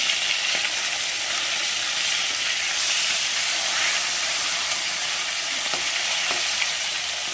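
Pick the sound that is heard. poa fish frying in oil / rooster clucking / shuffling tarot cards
poa fish frying in oil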